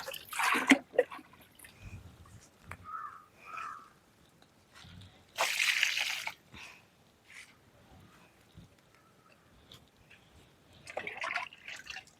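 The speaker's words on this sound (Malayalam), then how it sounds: "ഇനിയിപ്പോൾ ഇതാ ഇവിടെ ഇങ്ങനെ ഇതിന് ഒഴിക്കട്ടെ" Liquid is poured onto plants, trickling and splashing in a few short bursts amid quiet rustling, with soft pours and drips between louder splashes.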